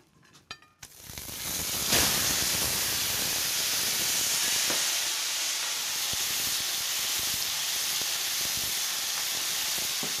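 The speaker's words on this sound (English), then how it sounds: "I'm searing it real good" Meat searing in a hot Dutch oven, starting with a clatter as it goes in and then a loud, steady hiss and sizzle that carries on unbroken, with a few soft knocks and no voices.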